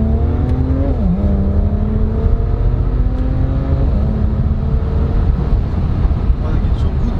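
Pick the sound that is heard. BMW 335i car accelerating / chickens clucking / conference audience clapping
BMW 335i car accelerating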